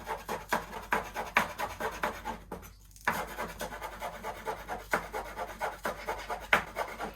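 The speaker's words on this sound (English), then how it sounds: "We want them really finely chopped." A knife finely chops spring onions on a board with quick, light, irregular taps and scrapes, close and fairly quiet, and there is one short pause partway through.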